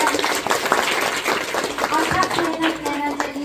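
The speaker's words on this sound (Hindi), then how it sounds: "उनके लिए बहुत बहुत तालियां" Audience applause breaks out for a team at a village welfare organisation's scholarship event, a burst of clapping under a speaker's continuing voice, moderately loud and close.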